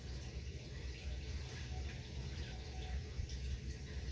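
Water sprayed and misted over seed starting mix, a steady soft hiss of spray running without a break throughout, fairly quiet and close.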